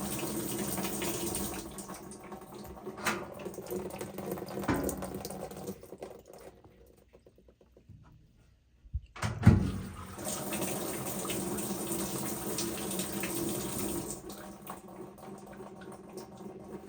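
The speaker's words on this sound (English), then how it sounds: "if we come over here to hot, we can hear the water going" Continuous rush of hot water flowing into a Whirlpool WTW5000DW top-load washing machine, briefly cutting out before resuming at a steady, moderately loud level.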